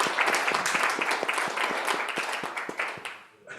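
Clapping from a small group at a team meeting, brisk and fairly close, holding steady for a few seconds before tapering off abruptly.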